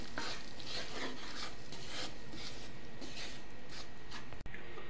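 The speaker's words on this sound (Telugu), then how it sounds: "ఒక 5 నిమిషస్ బాగా ఫ్రై చేసుకోవాలి" Ragi flour frying in ghee in a pan: a soft, steady sizzle with repeated scraping and stirring strokes, fairly quiet and continuous, with no talk.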